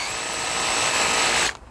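Power drill boring into brick during a Madison box termination job, a loud, steady high whine with grinding for about a second and a half before it abruptly stops.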